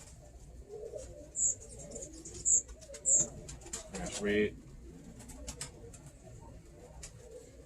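Birmingham Roller pigeons being handled give a few soft, short coos in quiet surroundings, with someone speaking briefly.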